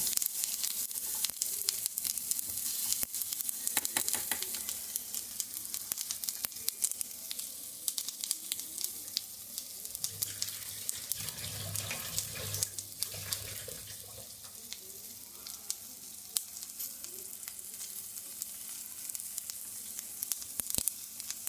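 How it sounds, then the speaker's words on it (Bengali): Food sizzles steadily in a hot pan for about twenty seconds, with faint scraping and stirring sounds and a brief lower rumble midway, close and continuous with no talk. "মোটামুটি যখন একটু ভাজা ভাজা হয়ে যাচ্ছে"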